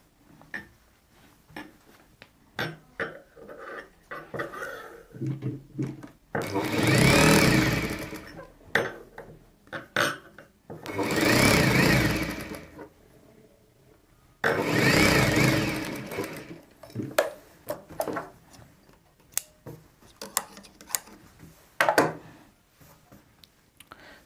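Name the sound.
sewing machine stitching a Rajputi poshak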